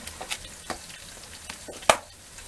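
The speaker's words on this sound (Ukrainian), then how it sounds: "Обжарюється, хай трішечки обжариться." Chopped onions frying in a pan, a steady soft sizzle broken by occasional scraping taps of a utensil and one louder knock near the end.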